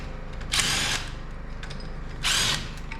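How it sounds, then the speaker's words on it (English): An electric impact wrench is used on a wide five hub while removing a brake caliper. Two short, loud, close bursts of high-pitched whirring are heard, each lasting about half a second, over a steady low background hum. "How about a electric impact?"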